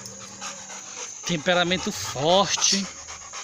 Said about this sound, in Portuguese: Nosso cão, cachorro de 2 anos de idade, muito forte